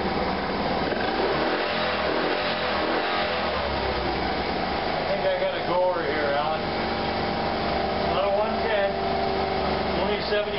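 Small Honda motorcycle engine idling after a kick start, a steady light buzz that rises briefly in a couple of soft revs, heard close and continuous throughout.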